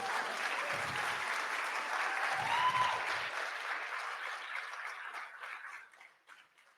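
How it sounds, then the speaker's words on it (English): Audience applause at the Watson Institute summit at Lynn University after a spoken-word piece, a dense wash of clapping that holds steady for several seconds and then thins and fades toward the end. "Please don't stop clapping,"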